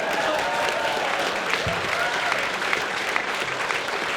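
Audience at BronyCon 2013 clapping steadily for several seconds, a dense, even patter of many hands at moderate distance, mostly alone without talk.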